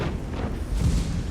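A tank cannon shot in World of Tanks lands as a heavy low boom that rolls out over about a second, loud and close, with no talk over it.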